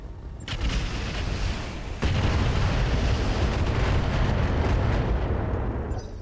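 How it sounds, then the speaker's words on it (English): A missile salvo using Artemis IV ammo in the RogueTech mech game: a sharp launch, then a second heavier burst rolling into a dense, continuous roar of rocket fire and explosions, loud and close. "we're going to fire on this guy with definitely Artemis 4 ammo"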